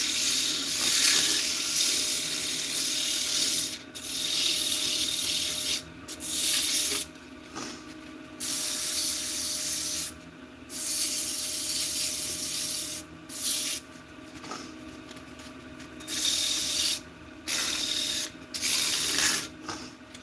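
Sandpaper rubbing a spinning wood-turned gnome, heard close as a steady rasping hiss in repeated bursts broken by short pauses, with no talking.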